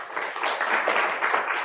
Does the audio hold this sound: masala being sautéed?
no